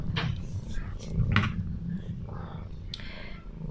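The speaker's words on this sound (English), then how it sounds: "His purr is very loud." A cat purrs loudly and close, a continuous low rumbling throb with soft breathy rises, over faint background clicks and rustles.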